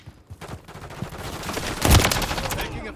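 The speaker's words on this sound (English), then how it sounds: "Taking effective fire." Rapid automatic gunfire and bursts from a Call of Duty: Modern Warfare III multiplayer Domination match on the Rust map, with a heavy volley peaking near the middle, layered over continuous in-game noise.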